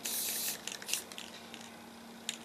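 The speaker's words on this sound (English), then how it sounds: "the second I started recording the spraying, but I'm just putting an undercoat on" Hiss of an aerosol spray can laying an undercoat of paint onto a large King Kong sculpture outdoors in a yard, a long continuous burst followed by several short intermittent puffs, close and moderately loud with no talk.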